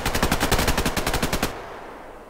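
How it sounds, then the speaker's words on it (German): Rapid automatic gunfire in the Survarium video game, a dense burst of shots in quick rhythmic succession, loud and close, cutting off abruptly after about a second and a half, leaving quiet background. "Die ersten Schüsse sind in unserer Nähe."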